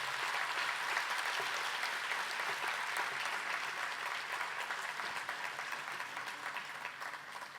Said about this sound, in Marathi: त्यांच्या संपूर्ण सहयोगी सांगीतिक प्रवासाला आपण सर्वजण टाळ्या वाजवून हार्दिक अभिवादन करूया.